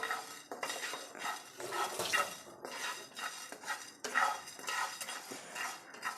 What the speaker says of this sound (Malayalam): ആദ്യം നമ്മൾ പാൻ വെച്ച് ചൂടാക്കിയതിന് ശേഷം ഫസ്റ്റ് നമ്മൾ എടുക്കുന്ന കുരുമുളക് നന്നായിട്ട് നമുക്കൊന്ന് ജസ്റ്റ് ഒന്ന് ചൂടായാൽ മതിയല്ല